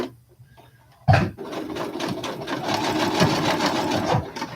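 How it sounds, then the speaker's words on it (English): A sewing machine backstitches on a work-in-progress project, starting with a sharp clunk and then a fast, steady mechanical chatter of stitching that runs close and loud to the end. "So I'm going to backstitch to just get it"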